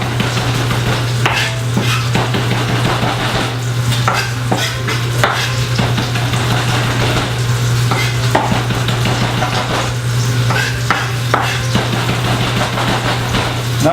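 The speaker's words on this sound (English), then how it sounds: "we're just going to run our knife right through it" A knife chops through a balled-up bundle of parsley and basil on a cutting board, giving irregular crisp knocks and scrapes over a steady low hum, with no talking.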